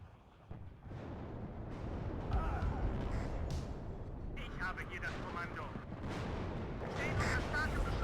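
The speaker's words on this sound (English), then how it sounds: "Oh, ammo explosion, that's not good." An ammunition explosion in the WARNO strategy game, heard as a continuous stretch of heavy blasts and crackling bursts lasting several seconds, dense and loud, with someone talking over part of it.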